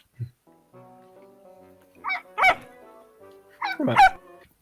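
Dog in an animated holiday episode, giving a few short barks and whimpering yips, close and clear, spaced out over a quiet background.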